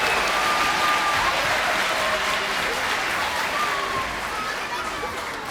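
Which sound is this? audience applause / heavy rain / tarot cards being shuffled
audience applause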